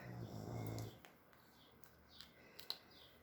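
A dog gives a low, rumbling growl close by in a quiet indoor craft room, lasting about a second, then a few faint clicks and taps follow.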